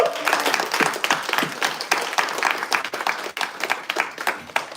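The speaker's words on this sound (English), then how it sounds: "Let's have a huge round of applause for every agent shipper in the room" Applause at an AI agents presentation event, a room of clapping hands with distinct, fairly sparse claps, moderately loud and continuing unevenly for several seconds.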